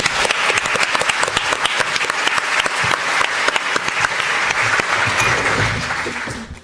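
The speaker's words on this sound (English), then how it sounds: "Please give her a round of applause." An audience claps in a sustained round of applause at a talk on feminist activism in the garment industry, dense and even throughout before fading at the end.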